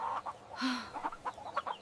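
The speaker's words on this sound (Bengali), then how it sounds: "এই মুরগিগুলো কোত্থেকে এলো" Chickens clucking close by in short, uneven bursts, with one louder squawk in the middle; no one speaks.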